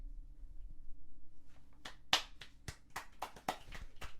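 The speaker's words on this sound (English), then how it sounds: "Golf claps. Golf claps." Quiet, polite golf claps: about a dozen separate hand claps, sparse and unevenly spaced, close and fairly faint against a low hum, with no talking.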